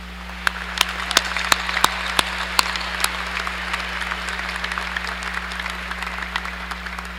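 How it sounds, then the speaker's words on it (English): A commencement ceremony audience applauds the graduates' supporters with a steady wash of clapping. A few sharper individual claps stand out, and a low electrical hum runs underneath. "would you please join me in applauding those who have made your success possible"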